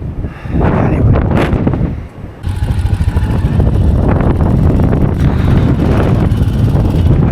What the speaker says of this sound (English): Very windy skywalk.